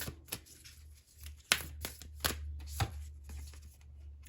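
Oracle cards being shuffled before a card reading, quick papery riffles and soft slaps in irregular bursts, close and fairly quiet over a low background hum.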